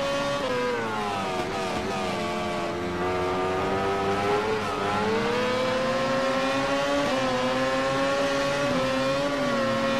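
A racing motorcycle engine in MotoGP 13 screams at high revs, its pitch rising and dipping through gear changes in a continuous, loud, close whine with no voices.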